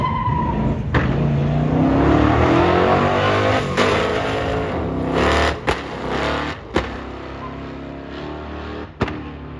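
A 1968 Plymouth Satellite drag car makes a pass at a Duct Tape Drags event. The engine revs hard and rises in pitch as the car accelerates away, with sharp pops and bangs near the end.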